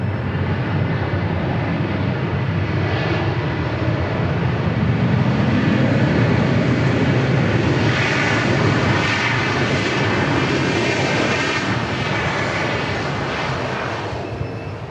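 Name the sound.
jet airliner arriving at Dallas Love Field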